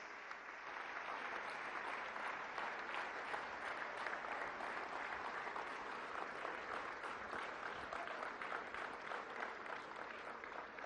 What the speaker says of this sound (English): for his address with a thunderous round of applause